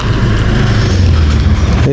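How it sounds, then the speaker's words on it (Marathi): An auto rickshaw pulls up on a roadside in Konkan, its engine a steady loud rumble filling the moment close by, with no talk over it. "आली रिक्षा आली"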